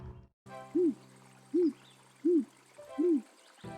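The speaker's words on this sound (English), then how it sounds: "This owl's going to give me away." An owl in the video game Anna's Quest gives four evenly spaced, clear hoots over a quiet background, with no speech.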